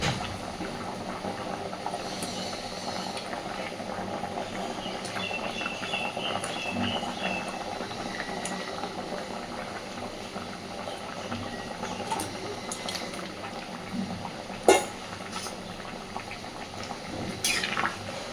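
Curry with fried potol koftas and potatoes simmers in a pan, a soft continuous bubbling and popping throughout, faint and close, with an occasional small clink.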